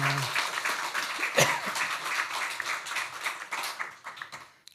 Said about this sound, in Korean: 우리 다시 한번 경애 박수하겠습니다